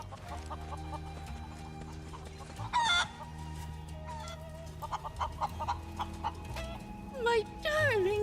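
Chickens, including a black one, in the video game Final Fantasy VII Rebirth cluck and squawk in repeated bursts over steady background music, with a few louder calls standing out.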